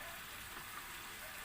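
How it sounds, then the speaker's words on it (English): Chicken curry meat simmering in a pan gives a steady, even sizzle and bubbling hiss, soft and unbroken throughout, with no talk over it. "So let's just simmer the meat, okay, until it's changed color"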